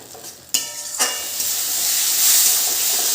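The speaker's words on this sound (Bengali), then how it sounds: "এবার আলুগুলোর সাথে মশলাগুলো ভালো করে কিন্তু কষিয়ে নেব।" Fried potatoes and spices stir-fried together in a pan, with a bright sizzling hiss and a couple of sharp scraping stirs early on, then steady close frying.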